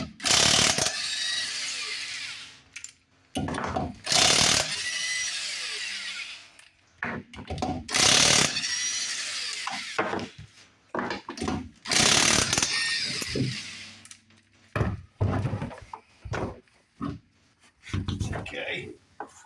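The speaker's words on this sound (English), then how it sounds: "let's get this tire off." A power tool pulls the lug nuts off a car wheel on a second-generation Camaro, making loud mechanical bursts with pauses between them while a person talks throughout.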